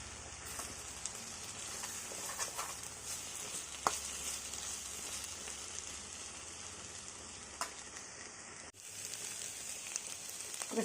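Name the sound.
boiled jackfruit seeds stirred into frying onion and ginger-garlic paste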